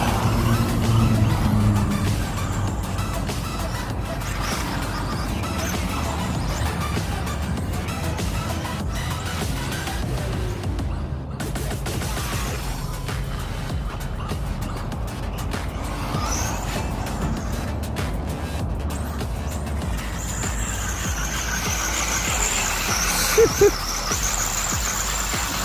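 Tamiya TT02 Ford GT Mk2 RC car spinning donuts in a parking lot, a continuous electric motor whine with tire scrubbing and squeals, at a steady middling distance throughout.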